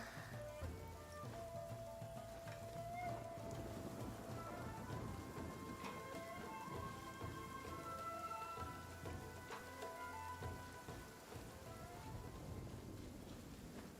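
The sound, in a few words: thunder and rain in Genshin Impact video game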